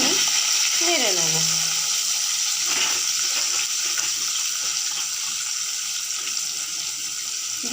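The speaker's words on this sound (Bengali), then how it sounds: "এবার দিয়ে দিচ্ছি কালো জিরে, কেটে রাখা কচুগুলোকে দিয়ে 1-2 মিনিট নেড়ে নেব।" Cut taro pieces and nigella seeds stir-fried in hot oil, giving a steady loud sizzle throughout with a brief stirring scrape near the start.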